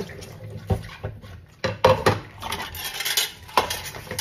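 Dishes and cutlery being washed by hand: irregular clinks and clatters of utensils and plates knocking together, with a few sharper metallic hits and brief splashes of water, heard up close with no talking.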